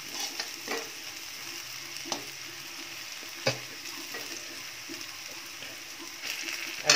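Onions fry gently in a pan, browning lightly. A soft continuous sizzle is broken by scattered spoon taps and stirring scrapes, all close and moderate, with no talking.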